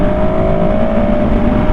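A KTM 690 SMCR supermoto's single-cylinder four-stroke engine pulls hard under acceleration, a loud, close, continuous drone with a steady tonal whine throughout.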